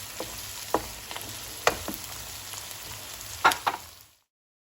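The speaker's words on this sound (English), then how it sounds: "So let the tomato cook and become soft." Tomato softening in a pan with two bay leaves, a low steady frying hiss broken by a few sharper sizzle bursts and stirring scrapes, close and moderately quiet, with no talking.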